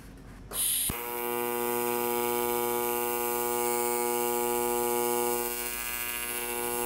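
A welding machine runs in pulse mode for a bead, giving a steady electrical buzz and hum after a brief sharp start, fairly close and even throughout, with no voices.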